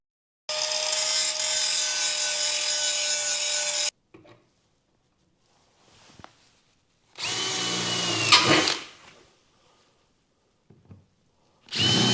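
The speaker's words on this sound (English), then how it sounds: "drill a hole in each end to stop the cracking" Short bursts of a power drill boring holes into the metal underside of a BMW E46 to stop cracks spreading, loud and close, with quiet gaps and small knocks between the runs.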